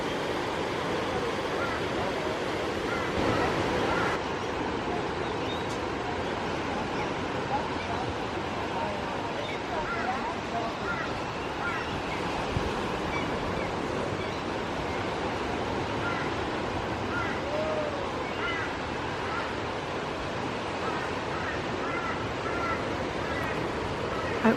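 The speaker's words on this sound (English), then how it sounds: "So beautiful, and the sound of the ocean is so lovely." Ocean waves wash steadily onto a rocky coastline in a continuous, broad surf rumble mixed with wind, moderately loud and unbroken throughout, with faint voices murmuring underneath.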